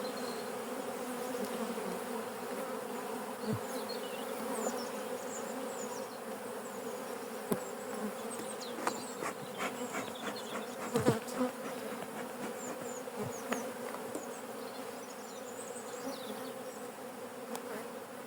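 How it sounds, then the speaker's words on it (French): Honeybees pour out of an opened hive as a frame is slid out during a spring inspection, their dense buzzing hum steady and close, with scattered knocks and frame handling sounds. "Je fais glisser le cadre et les abeilles tombent et s'envolent."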